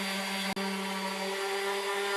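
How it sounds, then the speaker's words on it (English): Yellowwood tabletop being sanded with a power sander, a steady close droning whine with a strong low hum, briefly cut off for an instant before running on evenly. "took on the role of sanding"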